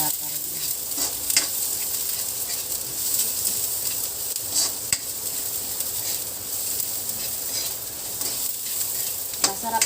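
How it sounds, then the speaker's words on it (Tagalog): Plenty of garlic and onion sauté in a hot pan for spicy spareribs, giving a constant bright sizzle with sharp crackles and stirring scrapes, close and steady throughout. "Masarap pag marami ang bawang, marami ang sibuyas, pag ito yung nagigisa"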